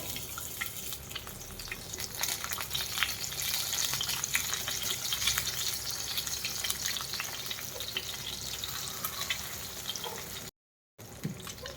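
An egg frying in hot oil in a home kitchen, a steady loud sizzle and crackle that runs continuously with no talking.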